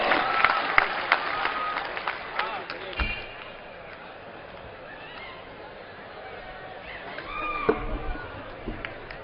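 Audience clapping at an Urdu mushaira as the poet Lata Haya is welcomed, with sharp bursts at the start that thin into softer scattered claps and a low crowd murmur, then fresh claps near the end.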